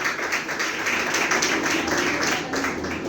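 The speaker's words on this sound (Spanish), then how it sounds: "Denle palmas al Señor, si no para él, porque tienen que tratar de aplaudirlo." A church congregation claps together in a steady, dense patter of many hands, sustained and fairly close for a few seconds.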